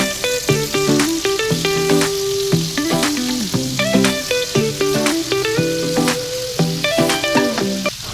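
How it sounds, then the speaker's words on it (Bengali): Paneer cubes frying in a few spoons of refined oil in a wok, a steady, close sizzle running throughout. Rhythmic scraping and stirring knocks from a utensil sit on top of the sizzle, with no voices. "পনিরগুলোকে খুব বেশি ভাজার প্রয়োজন নেই, হালকা করে ভাজলেই হবে"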